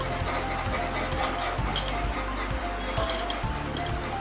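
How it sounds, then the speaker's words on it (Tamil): Spoon stirring lentils, spinach and spices in a metal pressure cooker for keerai kootu, giving a series of close, irregular clinks and scrapes against the pot over a low steady hum. "இப்போ இது எல்லாத்தையும் நல்லா கலந்து விட்டுப்போம்."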